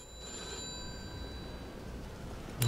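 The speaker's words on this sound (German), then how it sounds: "wir wachen wieder auf und das Telefon klingelt." A telephone ringing in the video game Mafia 2, a faint continuous electronic ring held steady for a few seconds in a quiet room, with no talk.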